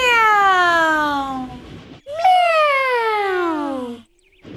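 Two long, drawn-out meows imitated by a human voice, each sliding downward in pitch, loud and close with a short pause between them.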